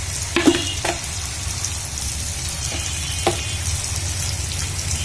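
Boiled potatoes hitting hot oil in a frying pan, a steady sizzle throughout with a few sharp spoon or pan knocks near the start and midway, no talking.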